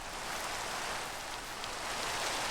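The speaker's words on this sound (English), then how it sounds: "Okay, it's raining." Rain falls steadily as an even, soft hiss, a constant faint wash of drops with no other sounds.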